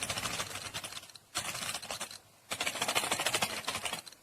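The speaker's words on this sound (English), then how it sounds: "So this is the sound of the keyboard." Rapid clicky keystrokes on a SUMVISION Seeker Destroyer 60% gaming keyboard, typed close up in dense bursts with two short pauses and no talking.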